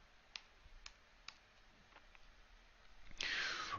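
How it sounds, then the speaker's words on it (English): Quiet, sparse clicks of calculator keys being pressed as a trigonometry calculation is entered, a handful of light taps spaced apart, ending in a brief rush of noise. "So we'll go ahead and type that in."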